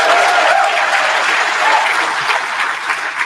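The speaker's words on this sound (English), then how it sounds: "We have one final round of applause for everyone." Loud, sustained applause from an audience at a storm chaser summit awards event fills the room, steady throughout and gradually easing slightly toward the end.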